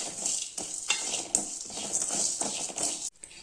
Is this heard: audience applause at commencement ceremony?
no